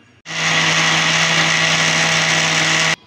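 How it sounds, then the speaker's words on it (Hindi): An electric juicer mixer-grinder whirs loudly, blending oil and sugar for cake batter. It starts abruptly, holds a steady high-pitched motor whine with a low hum for under three seconds, then cuts off sharply. "अब हम इसको ग्लेंड कर लेते हैं, हम इसे इतना ग्लेंड करेंगे चीनी इसमें अच्छे से मिक्स हो जाए।"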